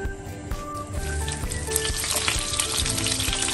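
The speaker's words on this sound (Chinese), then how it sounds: "接下来炒个底料，好不好吃全看它了" Scallion, ginger, chili, Sichuan peppercorn, star anise, bay leaf and cinnamon frying in hot oil for a sauce base, a steady close sizzle with scraping stirs throughout.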